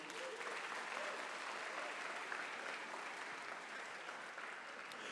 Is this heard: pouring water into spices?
no